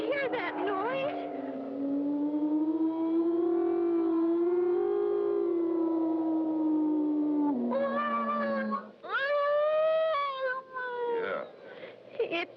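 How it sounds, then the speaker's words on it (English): Wind makes a long, wavering howl around a tower, rising and falling steadily for several seconds, then giving way to shorter, sharper wailing tones near the end. "Must be the wind blowing around the tower."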